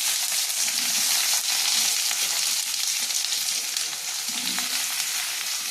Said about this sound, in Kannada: ಮೀಡಿಯಂ ಫ್ಲೇಮಲ್ಲೇ ಮಾಡ್ಕೊಳ್ಳಿ. ಕಟ್ ಮಾಡಿಕೊಂಡ ಈರುಳ್ಳಿ,